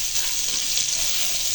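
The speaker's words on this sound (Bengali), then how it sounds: "রসুনটা সামান্য একটু ভেজে নিতে হবে যাতে কাঁচা গন্ধটা না থাকে" Garlic gently frying in a pan for a brinjal chutney, a steady, even sizzling hiss close by throughout, with no talking.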